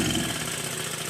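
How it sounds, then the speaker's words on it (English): A Stuart 10V model steam engine runs steadily on a bench, giving a brief, fairly loud mechanical whir with an even, fast chuffing rhythm and no talk. "This little steam engine runs very well."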